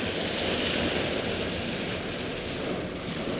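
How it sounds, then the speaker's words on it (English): A heavy rain downpour during a dark storm with high winds makes a steady, dense, broadband hiss that continues unbroken at moderate loudness, with no voices. "This is the first downpour in a while."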